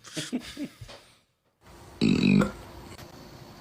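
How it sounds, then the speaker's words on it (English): A comically exaggerated burp from a played comedy recording, a short loud guttural belch after brief talk and a pause, with faint background noise. "That's how I burp sometimes."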